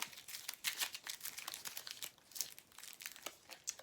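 Oracle cards shuffled and drawn from a deck, giving soft, close crinkling and papery rustles in quick irregular bursts throughout, fairly faint with no voices.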